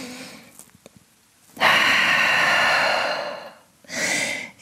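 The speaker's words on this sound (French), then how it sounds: "Grande respiration en chien tête en bas." Deep, slow breaths during a yoga session held in downward dog pose: a few faint sniffs, then one long loud exhale, a pause, and a second shorter breath, close to the microphone with no talking.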